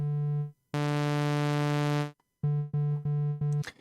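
Modal Carbon8 synthesizer oscillator set to a triangle wave, playing a steady low pitched tone in short bursts: one brief note, a longer sustained held note, then four quick repeated stabs separated by silences, with no talking.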